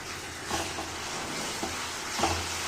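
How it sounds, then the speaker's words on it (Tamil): Ground tomato paste going into a hot pan of oil for a garlic kara kuzhambu with brinjal, giving a steady broadband sizzle with a few soft stirring scrapes, close and moderately quiet, with no talking. "இப்போ வந்து நான் அரைச்சி வச்சுருக்கிற தக்காளியை இதில் சேர்க்கணும்"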